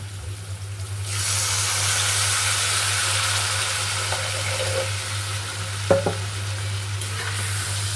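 Water poured into a spice paste frying in oil for a potol and prawn curry sets off a sudden loud, sustained hiss and sizzle, with a low steady hum throughout and a couple of sharp utensil knocks.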